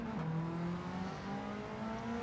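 A Mitsubishi Lancer Evo 3 GSR '95 in Gran Turismo 7 racing on Tokyo Expressway, its engine droning and rising and falling in pitch as it revs under braking, steady and fairly close with no talk.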